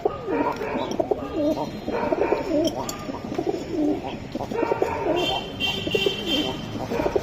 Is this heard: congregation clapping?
no